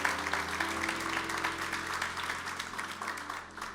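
A church congregation applauding, dense steady clapping from many hands that fills the room at moderate level throughout, with a faint low hum underneath.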